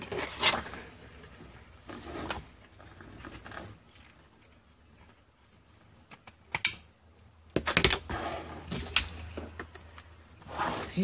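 Paper being cut along an edge for a handmade Christmas photo album, giving short crisp snips and rustles in bursts, close to the microphone, with quiet gaps between.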